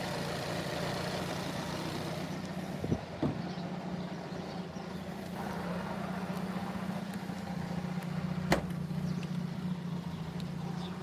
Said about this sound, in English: The engine's running really good.